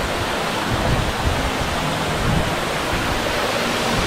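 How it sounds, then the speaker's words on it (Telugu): Katika waterfall in Araku roars steadily, a dense, unbroken rush of falling water filling the whole clip at constant loudness, close and without voices. "ఈ కటికా వాటర్ ఫాల్స్ చూడండి"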